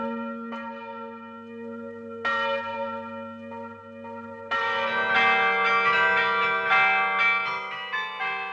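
Church bells ring in a belfry, starting with single clear, resonant strikes that hum and decay, then denser overlapping peals from about the midpoint, loud and close with no voices.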